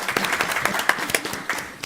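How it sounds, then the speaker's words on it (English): An audience at a Dayton Board of Education review session gives a short burst of scattered, moderately loud clapping. "Y'all can clap for her."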